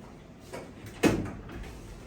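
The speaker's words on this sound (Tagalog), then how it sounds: "Sarado ko muna yung pinto." A door swings shut in a room, with a soft shuffle before it and one clear thud at the moment it closes, at moderate loudness with no voices.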